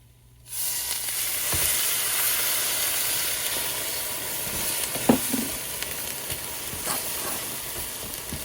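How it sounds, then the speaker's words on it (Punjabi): Parle-G biscuits fry in hot ghee, and milk goes in with a sudden loud hissing sizzle that then holds steady and steamy, with a few faint clinks from stirring; no speech. "ਬਿਸਕੁਟ ਆਪਣੇ ਘਿਓ ਵਿੱਚ ਗਰਮ ਹੋ ਗਏ ਆ ਆਪਾਂ ਨੇ ਹੁਣ ਇਹਦੇ ਵਿੱਚ ਹੀ ਦੁੱਧ ਪਾ ਦੇਣਾ"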